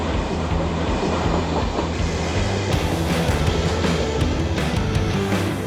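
Train rumbling past at a station platform, a steady loud roar of wheels and cars with rhythmic low clatter throughout, brightening and growing slightly louder toward the end.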